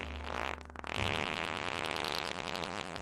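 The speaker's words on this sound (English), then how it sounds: "I have a fart noise already here." A processed fart sound effect with reverb and pitch shifting, a low buzzing sputter that breaks briefly and then swells into a longer rattling blast.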